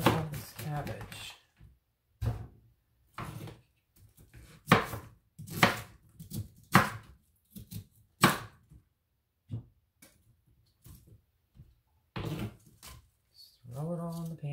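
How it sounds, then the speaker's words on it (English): A knife chops cabbage on a cutting board in quick, crisp strokes, some single and some in short runs, with a person speaking now and then between them. "then we're going to finish chopping up the remainder of this cabbage."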